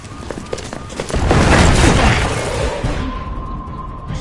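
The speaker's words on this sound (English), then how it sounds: "Commencing with bombing." Bombing explosions in the video game Resident Evil 6 roar up as a loud, dense rumbling blast that swells, holds for about a second and slowly fades into lingering debris noise.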